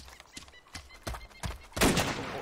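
A short series of gunshots aimed at houses, several sharp cracks spaced apart that grow louder, ending in a heavier, longer blast.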